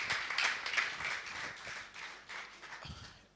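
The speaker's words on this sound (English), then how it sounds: "Please, another round of applause for him" At the DevFest Owerri 2021 tech conference, an indoor audience claps for a speaker, a short burst of scattered applause that swells and then thins out.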